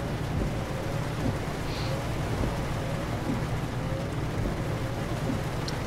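Steady, dense rainfall in the video game Euro Truck Simulator 2 hisses throughout with a low rumbling undertone, continuous and even without pauses.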